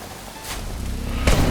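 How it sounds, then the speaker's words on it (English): A steady rain downpour with a thunderstorm in a TV drama scene, a continuous hiss broken by a bright crack of thunder and a heavier rumbling crash near the end. "The lightning and thunder outside frighten Xiaotong"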